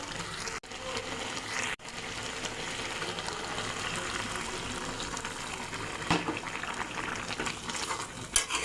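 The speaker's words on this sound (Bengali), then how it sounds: "আমি অল্প একটু গরম জল দিয়ে দেবো" Hot water poured into a cooking pan of fish with greens, a steady broadband wash of pouring and bubbling that runs nearly unbroken for several seconds, with two brief dropouts early on.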